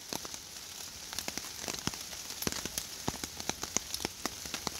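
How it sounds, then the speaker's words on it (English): Rain falls on a shelter outdoors in Carinthia as a steady patter with many sharp, irregular drop impacts scattered throughout, close and moderately loud, with no voices. "The rain's hitting them and dropping down through"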